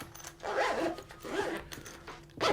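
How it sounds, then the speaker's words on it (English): A backpack carrying an iPad Mini gets zipped closed, two or three long rasping zipper pulls sounding close and clear with short pauses between them and no talking. "zip it up"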